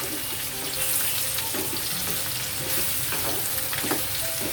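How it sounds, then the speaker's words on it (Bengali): Papaya and cucumber cook down in a pan with splashes of milk, making a loud, continuous bubbling sizzle with a watery hiss and occasional scraping of the spoon. "এবার আমি এটা কষাতে থাকবো, শুধু দুধ দেবো আর কষাবো, একটু করে দুধ দেবো আর কষাবো"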